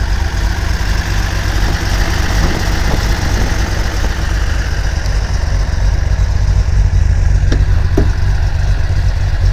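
A 1977 Datsun 280Z engine idles steadily after startup, a loud, continuous low exhaust rumble with no talking over it.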